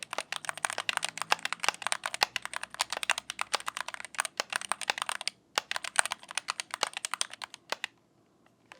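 Rapid typing on a DrunkDeer G65 budget gaming keyboard, crisp close-up keystrokes in quick bursts with a brief pause midway, fading to quiet at the end.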